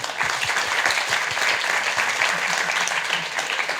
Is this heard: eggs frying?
no